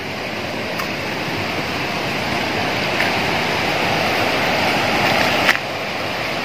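A river after a Semeru lahar flows near the Glidik bridge on the Malang–Lumajang road, over a barren, rocky bed. Its loud, continuous rushing sounds close by, with a few faint clicks over it.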